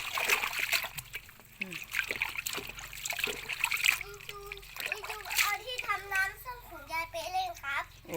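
Water splashing and trickling in a basin as vegetables are washed by hand, with sloshes and dribbles throughout, under a voice and an adult talking nearby.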